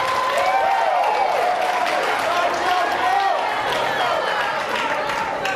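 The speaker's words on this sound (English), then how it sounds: "please hold your applause" Audience applause at a televised Democratic primary gubernatorial debate in Connecticut, a continuous broad burst of clapping with voices and a higher-pitched sound drifting through it.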